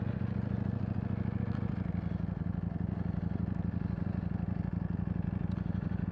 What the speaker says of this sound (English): But it does sound like a V-twin, just with the firing order, but it is a V4 engine.